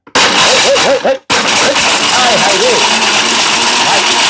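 A Panasonic mixer grinder runs with a loud, steady motor roar after a brief start and cut-out near the beginning, and someone talks over the machine.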